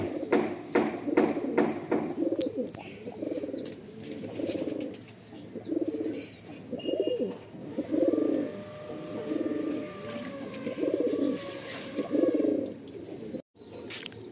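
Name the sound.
pigeons cooing in a pigeon loft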